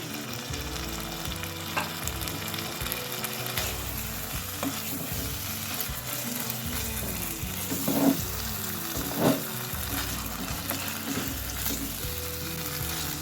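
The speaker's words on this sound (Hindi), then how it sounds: "इन आलूओं को थोड़ा सा हिला लेंगे।" Cubed boiled potatoes frying in a pan for aloo bhaji hiss and sizzle steadily while being stirred, with a few sharper scrapes of the spoon near the end; close and alone, with no talking.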